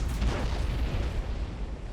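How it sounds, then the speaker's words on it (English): Booming explosions from space battles in the strategy game Battlefleet Gothic Armada 2, with Adeptus Mechanicus fleets, thudding loudly and continuously as a dense low rumble throughout. "I'm hearing explosions"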